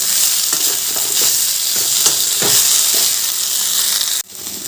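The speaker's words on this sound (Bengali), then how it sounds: "মশলাটা দিয়ে এবার আমি ভালো করে এটা কষিয়ে নেব" Shukto vegetables sauté in a pan with ginger and radhuni spice paste, giving a steady loud sizzle broken by soft scraping stir strokes, then a sudden drop near the end.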